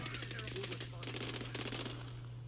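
Rapid automatic gunfire in a multiplayer shooter game, steady bursts of shots filling the whole moment at constant loudness over a low electronic hum.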